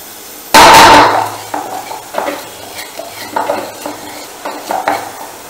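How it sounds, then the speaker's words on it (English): Laddoo mixture with sugar and elaichi powder stirred in a pan: a loud scrape starts it, followed by repeated softer scraping and clinking strokes in an irregular rhythm, with no voices. "and then we will mix all this together"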